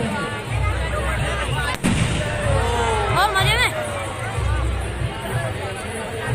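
Fireworks at a Dussehra celebration in Rajgarh district crackle and whistle upward while a crowd chatters steadily in the background.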